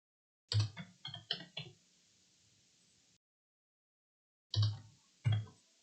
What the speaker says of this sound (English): You see my typing skills are top notch.